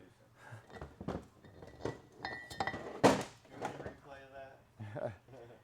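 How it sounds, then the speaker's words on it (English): A metal snap ring is pried open with pliers and worked off a transfer case, giving a few sharp clinks and metallic ticks between stretches of someone talking. "push on this snap ring, open the gap up right here with these pliers, and we're going to try to wiggle it and pull it off"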